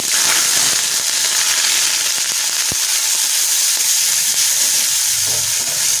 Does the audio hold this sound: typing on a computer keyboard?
no